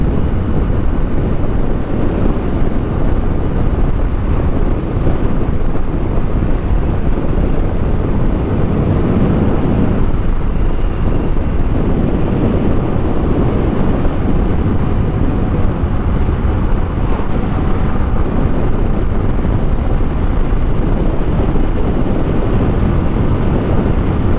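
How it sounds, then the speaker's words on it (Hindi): Motorbike speeding along a hot mountain road toward Babusar Top and Gilgit, a steady loud roar of engine and rushing wind buffeting the microphone throughout, with no pauses. "जाके हमारी बाइक ने स्पीड पकड़ी है सही से।"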